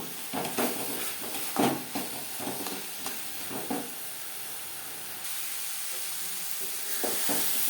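A thickening carrot and sugar mixture for laddu cooks in a pan over a medium-high flame, with repeated scraping stir strokes cutting through a steady soft sizzle and hiss.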